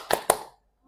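Two quick hand claps in a short pattern, close and crisp in a quiet room, followed by silence.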